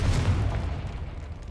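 A Confringo blasting spell exploding in Hogwarts Legacy gives one deep, booming burst that rumbles loudly up front and then fades away over about a second and a half.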